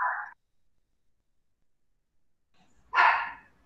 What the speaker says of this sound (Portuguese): tem um cachorro latindo aí